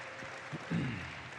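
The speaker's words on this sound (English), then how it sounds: "please give a massive round of applause to dine in all of our semifinalists here today" An audience at a conference pitch competition gives a short, moderate burst of applause that swells briefly, with faint voice-like tones underneath.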